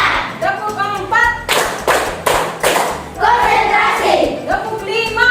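A standing group of students claps out a rhythmic clap pattern during a classroom lesson, several sharp, loud, evenly grouped claps in bursts, with voices talking and chanting between them.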